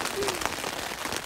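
Rain patters densely on a tent during a storm, a steady close hiss of drops without a break in the short stretch.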